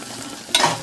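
Onions and crushed garlic fry in a pan for paruppu urundai kuzhambu, a soft sizzle joined midway by a brief scraping stir.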